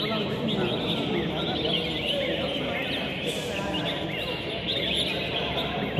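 Competition songbirds sing at a final bird-singing contest in Cẩm Phả, Quảng Ninh, with bright chirps and warbles repeating steadily through crowd murmur and people talking nearby.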